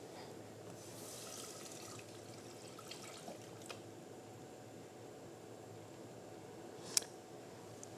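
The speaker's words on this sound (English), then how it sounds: "We're going to start with water." Water runs from a kitchen tap for cooking black-eyed pea tostadas, a soft steady hiss with a few faint clinks and one sharp tap near the end, quiet and without talking.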